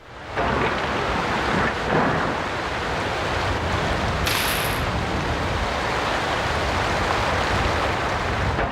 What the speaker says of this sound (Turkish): Bu da tropikal siklondur yani kasırga.